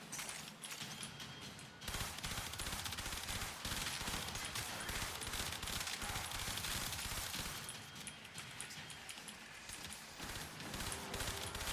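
Prime Shred fires in rapid, sustained bursts during a Warframe fight, a dense barrage of shots that runs almost nonstop apart from a brief pause near the start.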